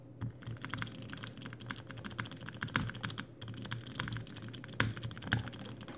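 Fingers tap an iPad screen in rapid jitter-clicking bursts, a dense run of sharp, close, fairly loud taps for the whole stretch with only brief pauses and no talking.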